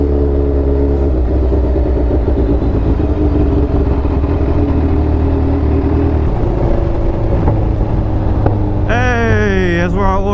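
A Kawasaki Ninja H2 motorcycle engine drones steadily and loudly while riding, a low continuous rumble that rises into a sweeping rev near the end, with no clear talking.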